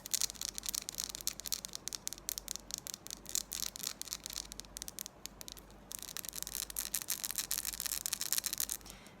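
Fast, fine scratching and light tapping on hard candy chilled in a refrigerator for a crisper sound, a dense close-miked crackle that runs steadily at a soft level with no talking.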